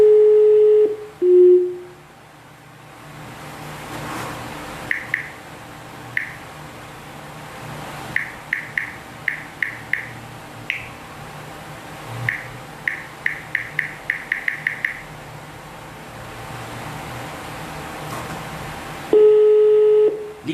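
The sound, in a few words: telephone call dialing and ringing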